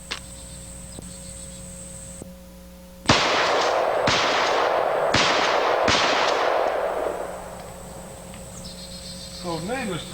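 Shotgun loaded with birdshot fired at a 3/4 inch plywood target outdoors: four loud, sharp blasts in quick succession, each ringing out over a steady chorus of crickets.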